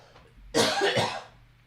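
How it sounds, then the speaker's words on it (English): A single rough, drawn-out cough fit, close to the listener, over a quiet low hum. "I can't stop coughing"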